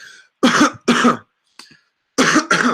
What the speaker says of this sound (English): you can cough, make yourself cough